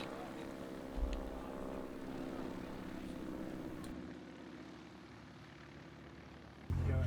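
A small propeller plane carrying a wingwalker drones steadily with a constant engine hum and wind rush throughout, heard from on board, with a brief thump near the start and another louder bump at the end.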